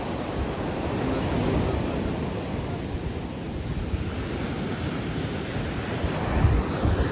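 Black Sea surf at Adler, small waves washing steadily onto the shore, a continuous broadband roar with wind buffeting the microphone and a slightly louder surge near the end, no voices.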